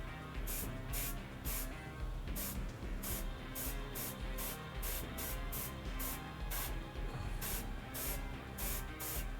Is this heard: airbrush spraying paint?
yes